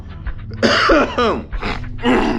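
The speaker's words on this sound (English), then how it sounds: "pardon the coughing, pardon the nagging throat" A man clears his throat harshly and coughs several times in quick succession, loud and close, with no talking.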